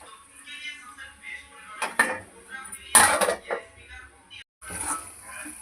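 A metal spoon stirs tomato and bottle gourd curry with masala in a cooking pot, giving intermittent scraping and clinking bursts, a few louder knocks against the pan, over a quiet background.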